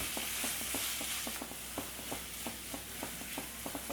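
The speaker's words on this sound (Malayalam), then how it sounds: "പൊടികളൊന്ന് മൂത്ത് വന്നോട്ടെ." Ground spices, including garam masala, roast in a pan for egg roast. A steady sizzle runs under regular scraping taps from a spatula stirring the mixture.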